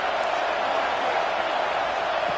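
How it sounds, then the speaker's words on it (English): A stadium crowd roars in the college football video game NCAA 25, a dense, unbroken wall of cheering noise at steady volume with no other sounds standing out. "this crowd is fired up. Listen to this noise here."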